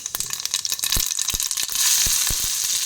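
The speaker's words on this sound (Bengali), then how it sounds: "জিরেটা একটু ভাজা হয়ে গেলে" Hot oil crackles and sizzles steadily as whole cumin seeds fry, with sharp popping ticks scattered through, the frying growing a bit louder toward the end.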